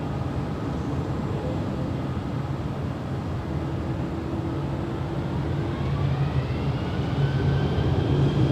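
A Delta heavy jet airliner takes off from runway 24 left at LAX, heard from a high hotel rooftop as a steady, broad distant jet roar that slowly swells.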